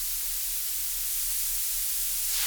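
Steady hiss from a Moog-style synthesizer noise source run through a high pass filter, bright and airy with no low end, constant and loud from start to finish, alone with no voices.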